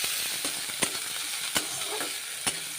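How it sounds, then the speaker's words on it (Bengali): Chopped onions frying in hot oil in a pan, a constant bright sizzle broken by a few sharp scraping clicks of stirring, close and steady with no talk. "পেঁয়াজগুলো ভেজে নেব একটু।"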